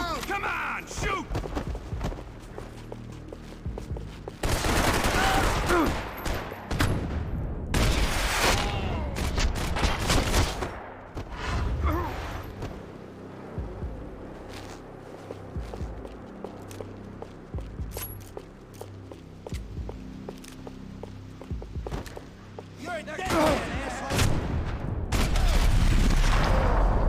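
Gunfire in Max Payne 3 sounds through a long action stretch, with heavy bursts of loud, rapid shots and booms alternating with quieter moments of footsteps and mechanical clatter, while a voice talks at times over the shooting.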